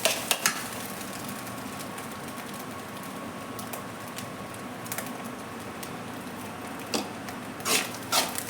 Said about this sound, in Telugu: ఇలా బాగా మిశ్రమానికి మొత్తానికి కారం పట్టేలాగా కలుపుకోవాలి